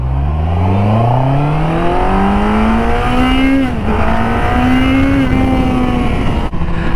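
QJmotor Race 800 motorcycle pulling away under throttle, its engine note climbing steadily through the revs with a brief dip as the gear changes, loud and close throughout.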